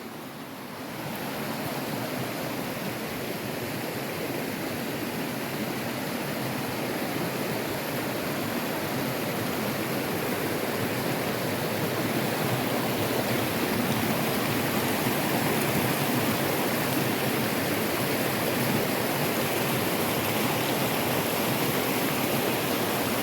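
River water flows steadily past a dispersed campsite near Monterey, Virginia, a constant, full rushing hiss that holds even throughout, with no voices over it.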